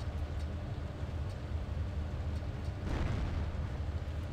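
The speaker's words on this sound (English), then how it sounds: "Happens if you drop a grenade down there." A grenade blast in the video game Freedom Fighters, a low rumbling boom swelling near the end over a continuous muffled background roar.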